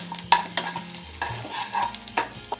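Chopped ginger and garlic fry in hot oil with cardamom, a clove and a little cinnamon while a spoon stirs and knocks against the pan, giving irregular close clinks and scrapes over a soft sizzle.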